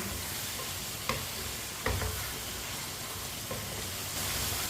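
Turnips cooking in a pan over a high flame give a steady, close sizzle with a couple of sharp scrapes and clicks of stirring along the way, and nobody speaks.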